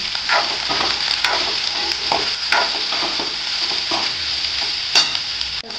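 Onion frying in oil with salt in a pan, producing a constant close, bright sizzle with faint crackles and occasional scraping stir sounds, no voices over it.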